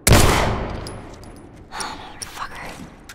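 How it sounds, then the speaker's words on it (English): A single loud gunshot cracks out at once in The Last of Us, its sharp blast decaying over about a second, followed by faint scattered noises and low breathy vocal sounds. "That was a loud shot actually as well."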